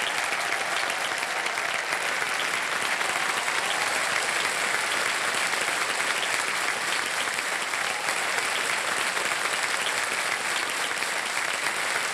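Loud, dense studio audience applause on a TV quiz show, sustained and even for the whole stretch, with many hands clapping together and no talk over it.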